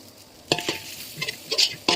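Fried rice with sour fermented pork and fresh bird's eye chilies is stir-fried in a wok with a spatula, giving a few sharp scraping and clanking strokes over a soft sizzle, close up and without speech.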